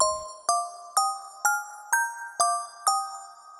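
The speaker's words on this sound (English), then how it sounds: "Glockenspiel." Glockenspiel voice on a Yamaha Genos 2 keyboard, playing seven evenly spaced, bright struck notes stepping upward, each with a crisp attack and short ringing decay, heard alone.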